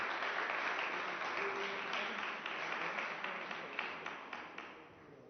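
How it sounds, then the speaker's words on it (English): Audience members at a press conference applaud the signatories with moderate, steady clapping that gradually thins and fades, a few individual claps standing out near the end. "Another round of applause for all our signatories"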